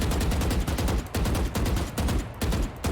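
Gunfire in the video game Valorant: loud, rapid automatic bursts of a few rounds each, separated by very short pauses, filling the moment with no talking.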